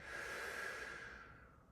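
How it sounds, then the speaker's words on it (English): A long, breathy exhale during a hypopressive breathing exercise, steady and close, then slowly fading toward the end with no talking. "breathing into my body, exhaling,"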